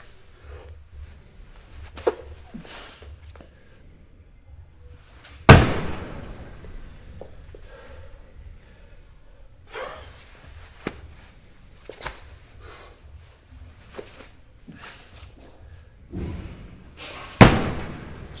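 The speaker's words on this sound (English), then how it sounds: "a more strongman style lift up onto the shoulder, get it there, we'll secure it, I'll drop it" A training sandbag is hoisted to the shoulder and dropped, with scuffs and shuffling between loud heavy thuds on the floor, two especially hard impacts standing out.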